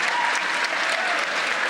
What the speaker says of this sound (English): Listen to that appreciative audience.